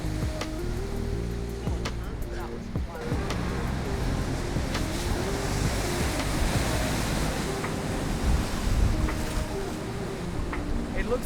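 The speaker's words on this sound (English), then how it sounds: "a coastal cliff region that sees aggressive ocean swell smash huge waves against the rocks" Heavy ocean swell smashing against the coastal cliffs and rocks at Quobba Blowholes, a continuous roar of surf with rumbling surges and wind buffeting the microphone, a few faint voices mixed in.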